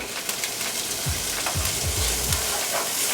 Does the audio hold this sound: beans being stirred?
yes